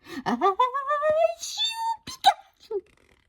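A voice performs a drawn-out, wavering sneeze imitation, rising and sliding in pitch before a short sharp burst, close and alone.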